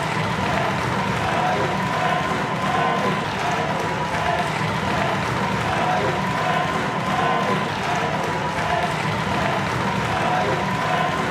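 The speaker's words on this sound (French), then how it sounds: "une arrivée triomphale sous les acclamations des salariés de Congo Télécom" A large crowd of Congo Télécom employees cheers and claps continuously for an official's arrival at a Brazzaville agency inauguration, a dense, steady roar of applause and voices with no pauses.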